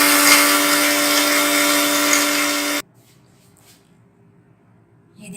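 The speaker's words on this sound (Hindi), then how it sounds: "अभी हमने इसको थोड़ा सा और पीसना है। बिल्कुल ये बारीक हो जाएगा" An electric spice grinder whirs loudly and continuously, finely grinding pasanda masala spices, with a steady high motor whine that stops abruptly, leaving near silence before a faint rattle.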